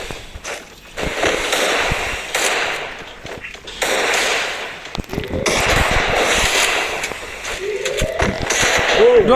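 Gunfire in the mobile battle game Free Fire, bursts of rapid shots and pops under excited talking from players, loud and dense with short gaps.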